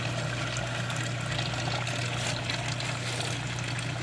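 Water runs steadily through a gold prospecting sluice in North Carolina as the first scoop of dense clay and black sand is dumped in, a continuous close pouring wash over a low pump hum.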